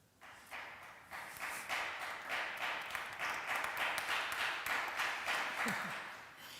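Spontaneous applause in a parliament chamber, rising from a few claps into a sustained, rhythmic round of hand clapping from many members, fairly distant and steady throughout.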